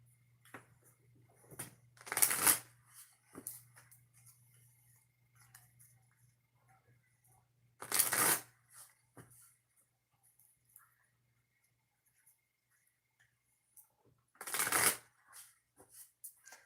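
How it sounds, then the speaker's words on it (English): Three separate bursts of oracle cards being shuffled, each a brief riffling rush, separated by long quiet gaps with faint handling sounds and a low hum. "got to mix the cards"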